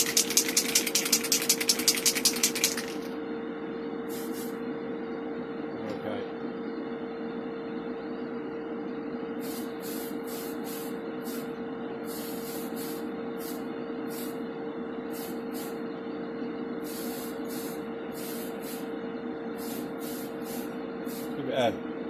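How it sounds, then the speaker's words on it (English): A steady hiss of Tamiya spray primer being applied to a Corgi toy Chevrolet Corvair opens the clip for a few seconds, followed by a constant mechanical hum with brief high bursts at intervals. "Using the Tamiya spray."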